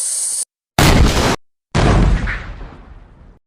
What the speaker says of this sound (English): Fire the 18-pounder.